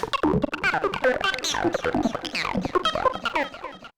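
A dense, swirling synthesizer effect with sweeping, warbling tones and shifting pitch, continuous and fairly loud throughout.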